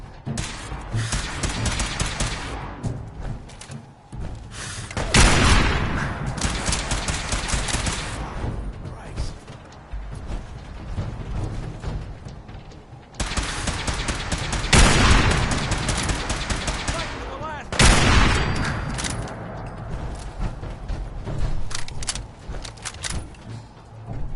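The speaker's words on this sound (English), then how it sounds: "Suppressing fire." Gunfire in a PS4 shooter game: dense, rapid automatic bursts that keep going in long stretches, with loud surges of heavy fire and a few short lulls between them.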